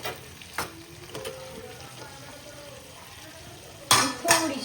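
Chicken being stirred into masala in a clay pot for matka chicken, with soft sizzling and a few sharp scrapes and knocks of a utensil against the pot, quiet between the louder clatters near the end.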